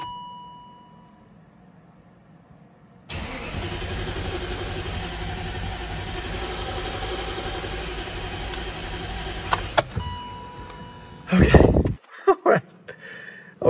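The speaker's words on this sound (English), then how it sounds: "Okay, so it actually cranks, but it's not starting." A BMW X5 4.6is engine cranks steadily for several seconds without catching, the starter churning evenly before cutting off, followed by a few sharp clanks and knocks nearby.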